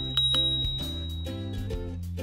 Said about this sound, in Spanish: además viene con un timbre tipo bicicleta